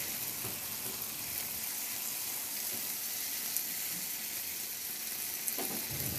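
Boiled squid broth goes into a pan where squid is cooking, raising a steady, fairly faint sizzle with a soft watery hiss. No one speaks.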